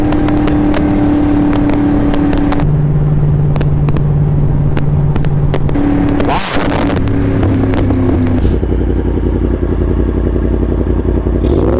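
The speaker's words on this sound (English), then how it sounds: "There is only engine noise around" Motorcycle engines of bikers riding along a forest road, a steady close engine drone that shifts pitch through gear changes and revs, with a brief loud clattering burst midway and a deeper rumble at the end.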